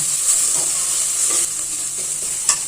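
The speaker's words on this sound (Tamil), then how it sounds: "அதனால் நல்லா வதக்கிடலாம்" Ingredients for a coconut milk paneer pulao sautéing in a pan: a constant bright hiss of frying with a few soft stirring scrapes, close up and with no one talking.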